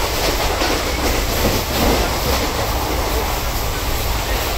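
A passenger train runs on rails from Kolkata to New Jalpaiguri, a loud steady rumble with continuous rolling noise from inside the carriage throughout.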